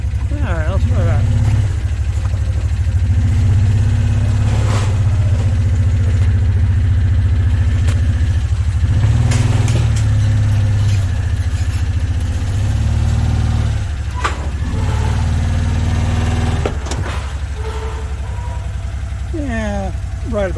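A motorcycle engine idles with a steady low rumble while the bike is loaded onto a trailer in a garage, with clattering handling noises and people talking nearby over it.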